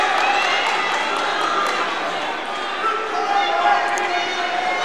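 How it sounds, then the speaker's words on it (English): A basketball crowd in a gym during a Pittsburg vs. Parsons game keeps up a steady, lively roar of voices and cheering, heated and continuous, with bright shouts rising above the din. "this place is just going crazy by the amount of calls, the crowd reactions"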